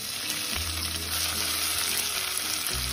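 Garlic and onion fry in a pan for a homemade tomato soup, a steady close sizzle with low stirring rumbles and a few scraping shifts partway through.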